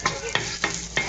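Ginger hitting a hot pan with shrimp, sizzling steadily under four sharp stirring scrapes spaced about a third of a second apart, close and moderately loud.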